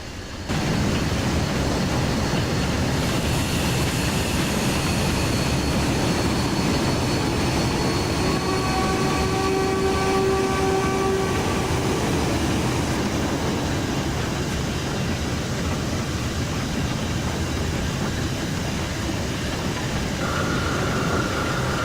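An LMS Black 5 steam locomotive in a train simulator game runs with its blower on, giving a steady, loud roar and hiss that holds unbroken throughout, with faint tonal whines drifting through the middle.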